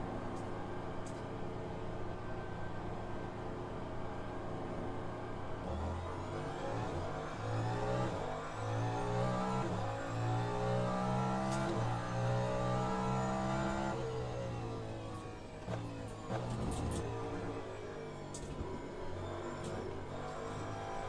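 A Cadillac V-Series.R LMDh race car engine at Sebring in Le Mans Ultimate revs up through the gears, climbing and dropping in pitch with a shift, close and steady, then easing off.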